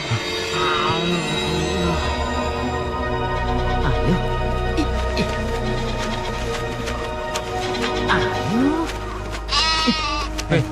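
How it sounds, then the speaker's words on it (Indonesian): A goat bleats several times in wavering cries against a loud, busy background of other sounds and possible voices. "mau dibawa kemana kambing itu?"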